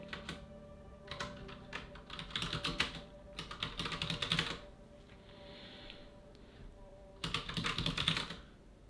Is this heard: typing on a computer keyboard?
yes